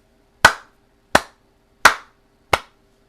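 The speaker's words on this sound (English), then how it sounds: "Andre claps with sarcasm." Four sharp, evenly spaced hand claps, slow and deliberate, loud and close with no talk, as a man applauds mockingly at a desk in a church rectory.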